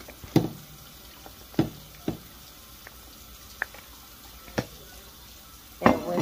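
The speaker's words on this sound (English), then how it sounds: "So I got my water running." Water runs from a kitchen tap while onions are rinsed, with intermittent splashes and knocks standing out over a steady low hiss, close by and with no talk.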